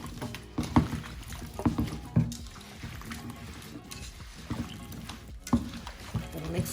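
Spoon stirring yam porridge with salt in a pot, giving repeated sloshing, scraping strokes at roughly one-second intervals, close and moderately loud.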